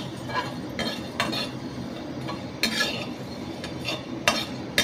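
Coriander seeds, cumin and a dried red chili dry-roasted over a gas flame, stirred in a pan with light metallic scrapes and clinks at an uneven pace over a faint background hiss.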